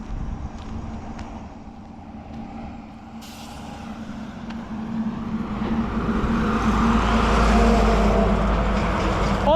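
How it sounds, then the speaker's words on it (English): Heavy trucks rolling past on a road in Tanzania, a steady roar of engines and tyres that swells louder toward the end as vehicles draw near, with faint air-brake hiss among the traffic. "All these trucks moving, this is Tanzania. All these trucks moving means business."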